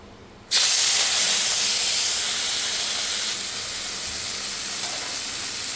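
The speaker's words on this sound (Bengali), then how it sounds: "অল্প চিংড়িটা আমি ভেজে উঠাবো" Small prawns hit hot oil in a pan and burst into a loud, steady hiss that starts abruptly and then settles into a continuous sizzle, close up with no voices.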